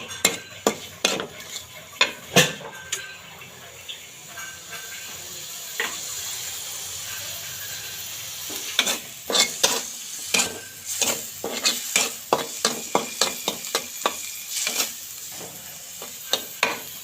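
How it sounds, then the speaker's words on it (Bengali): Onions and chillies fry in oil with a soft sizzle under repeated sharp scrapes and clinks of a spatula against the pan, the knocks coming in quick irregular bursts toward the end. "পেঁয়াজ মরিচ দিয়ে এখন সুন্দরভাবে পেঁয়াজ মরিচগুলো লাল লাল করে ভেজে নেব"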